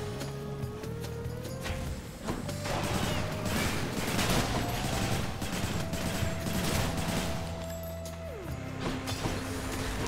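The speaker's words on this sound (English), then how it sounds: "So many explosions." Rapid explosions and crackling blasts from the video game Hades pile up continuously over a sustained musical tone, with a busy, chaotic texture throughout.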